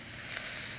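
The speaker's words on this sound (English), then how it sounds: "See that? The nice sizzle, That nice sizzling." Meat sears in a hot pan with a steady, loud, continuous sizzle, close up and without any voice over it.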